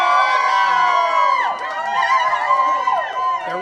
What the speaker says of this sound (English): And look at this crowd here. They're excited.